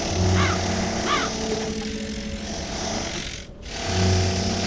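Steady mechanical drilling from a worker boring holes into castle stonework in the Black Mirror III game, a continuous buzzing grind with a few brief rising tones and a momentary cutoff near the end before the drone resumes.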